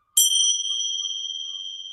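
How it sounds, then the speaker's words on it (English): A single yoga bell struck once to begin a flow, a clear, bright ding that rings out and slowly decays as a sustained tone for nearly two seconds. "with the bell."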